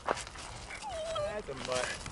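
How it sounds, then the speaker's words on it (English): A Catahoula dog whines close by in high, wavering, drawn-out tones, with scuffling movement noise around it. "Beautiful dog."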